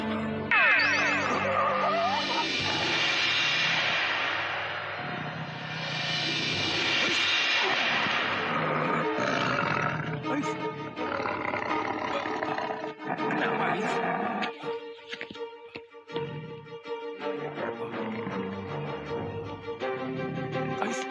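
A tiger-like roar stands for a man transforming into a tiger in an Indonesian supernatural drama. Long, loud, rolling roars swell and fade over the full length, mixed with a dense dramatic soundtrack.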